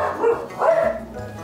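A pet dog barks twice in a kitchen where chili is being cooked, close, loud woofs spaced about half a second apart with no speech.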